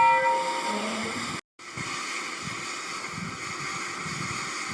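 Animated steam engines rolling into the Knotford station early in the morning: a steady mechanical rumble and hiss with a brief dropout near the start, moderately loud and continuous, no talking.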